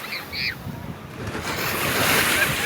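Sea waves wash onto a beach in Kuwait, a broad surging rush of surf that builds and stays loud, with gusty wind on the microphone and a brief high chirp early on.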